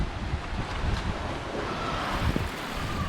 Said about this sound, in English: This is the beach. Kudle Beach.